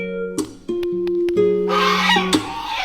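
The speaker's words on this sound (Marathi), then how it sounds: "या बदकाने कर्कश आवाज करत आमचे स्वागत केले." A duck at a resort gives loud, harsh honking calls in a choppy series, close and alone, followed by a burst of broadband noise and one more sharp squawk.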